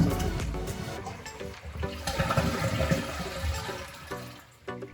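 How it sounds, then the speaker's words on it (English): Water drains from a toilet tank during a bidet seat installation, a soft gurgling rush of water heard alone that surges and trails off over a few seconds. "Drain the water from the tank."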